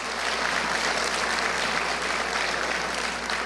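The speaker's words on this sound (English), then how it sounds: "We can do an applause for that." Steady, dense applause from a crowd of children at a Let's Move healthy-eating rally in Jackson, Mississippi, filling the whole stretch evenly with no voices on top.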